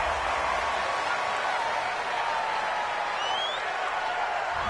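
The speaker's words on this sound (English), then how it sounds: "This home crowd, they're happy with that call." Home crowd noise in a PS4 American football video game, a broad steady roar of cheering and applause holding at an even level throughout, with no distinct voices standing out.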